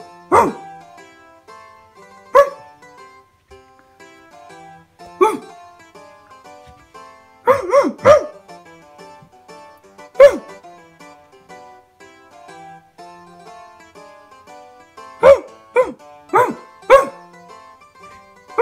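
A toy poodle barks close by in sharp, loud yaps, single and in quick clusters of two or three, separated by near silence.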